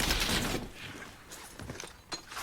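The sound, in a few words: gunfire from unsuppressed weapon, video game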